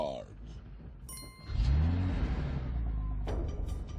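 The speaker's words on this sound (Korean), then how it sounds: "목소리로 시동을 거는 자동차를 타고 위기를 모면합니다." A car engine started by voice command catches partway through and settles into a loud, steady rumble. Brief electronic tones are heard just before it starts.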